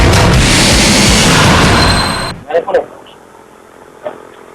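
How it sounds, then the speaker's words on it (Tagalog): A loud roaring blast fills the first two seconds, then cuts off, followed by two quick sharp pops and a fainter pop moments later, from a burning vehicle. "Ang sunod-sunod na putok mula sa nagliliyab na sasakyang ito"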